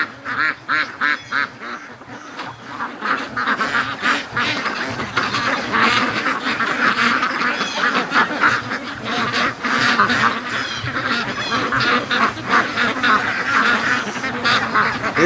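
A long line of ducks walking toward a lake quacks steadily and close by, with overlapping calls forming a continuous noisy chatter throughout.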